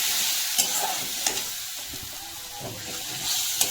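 Spices with bay leaf, chili, ginger, cumin and soaked turmeric being stir-fried in a pan before vegetables go in: a close, continuous sizzle broken by a few sharp scrapes of stirring, no voices.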